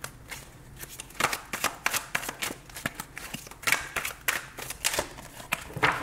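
Tarot cards shuffled and handled during a reading, a close run of crisp slapping riffles and flicks in uneven bursts with no talking.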